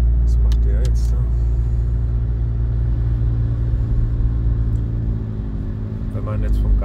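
A Renault Laguna III with a 2.0 dCi diesel engine idling at low rpm gives a steady, loud, close low rumble throughout, with no speech over it.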